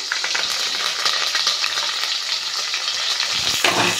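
Onions, green chillies and curry leaves fry in hot oil for egg biryani, giving a loud, steady, close sizzle with a brief stir or clatter near the end.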